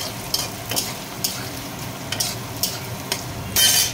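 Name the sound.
paneer frying in a pan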